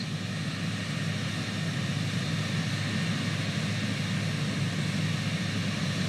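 Cirrus Vision Jet G2 taxiing in Microsoft Flight Simulator 2020, a steady, loud jet engine drone with a broad rumbling hiss that holds even throughout, with no one talking.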